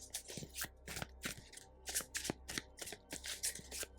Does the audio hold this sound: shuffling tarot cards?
yes